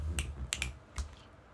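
Finger snaps, about three sharp close clicks spaced unevenly across a short quiet stretch, with no voices.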